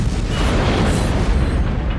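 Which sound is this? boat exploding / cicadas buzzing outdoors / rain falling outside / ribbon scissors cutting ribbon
boat exploding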